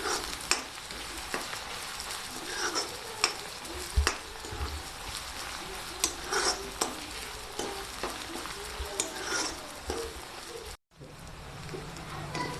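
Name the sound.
onions frying and being stirred in a pan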